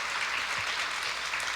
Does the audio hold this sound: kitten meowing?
no